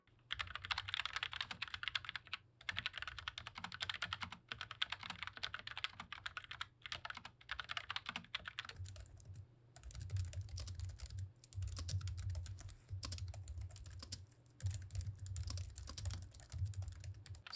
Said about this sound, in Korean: 키보드 스위치는 텍타일 콰이어트로 쉽게 말해서 저소음 갈축입니다.